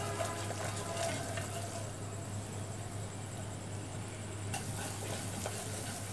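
Sugar cooking into caramel in a pan: a steady, close sizzling bubble with soft stirring scrapes, continuous and fairly quiet throughout.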